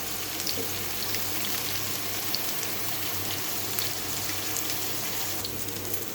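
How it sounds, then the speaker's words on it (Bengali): Bata fish frying in hot oil in a kadai, a steady dense crackling sizzle running evenly throughout with no talking. "বাটা মাছটা আমি এখানে কড়াইতে বসিয়ে দিই, একদিকে হতে থাক"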